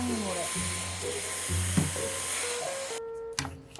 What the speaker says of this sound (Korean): 청소하는 김에 소개하는 청소기